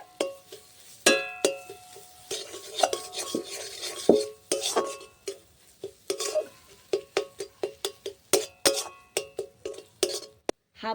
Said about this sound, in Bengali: লবণ পরিমাণ মতো চিনি হাফ চামচ সব কিছু দিয়ে একটু ভালো করে মশলাটা কষিয়ে নিতে হবে